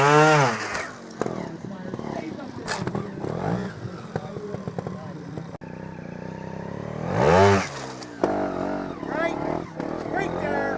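A trials motorcycle engine at the El Trial de Espana NATC event in Anza, California revs and dips in bursts, rising sharply near the end, loud and close with people talking over it.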